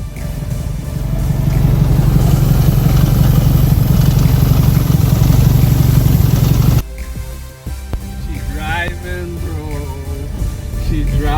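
A rebuilt Toyota MR2 engine runs steadily and loudly, then cuts off abruptly partway through, leaving quieter mechanical noise and a few brief sounds.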